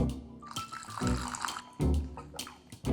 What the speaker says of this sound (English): I think now I'm gonna add water.